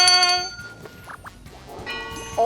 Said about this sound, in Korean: 이번에도 골든벨이 울렸습니다.